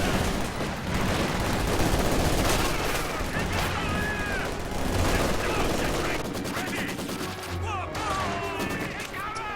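Maxim machine gun fire in a video game battle: dense, continuous bursts of rapid shots and distant gunfire under overlapping voices, with the firing steady and loud throughout.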